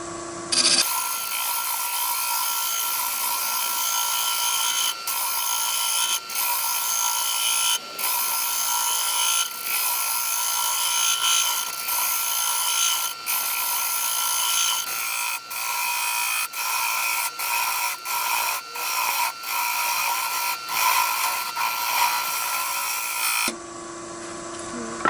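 A woodturning lathe spins a striped wooden platter while a half-inch round nose tool cuts it, giving a steady high whining scrape that runs for over twenty seconds, broken by brief dips and sharp ticks as the tool catches.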